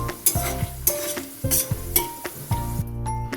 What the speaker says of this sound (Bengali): কয়েকটা বাদাম ভেজে নিচ্ছি।